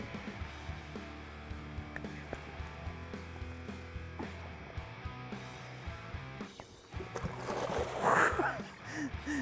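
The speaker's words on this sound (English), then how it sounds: "And off with a splash" A catfish released into the Ohio River slaps into the water with a brief, sudden splash near the end, following quiet rustling and handling sounds by the riverside.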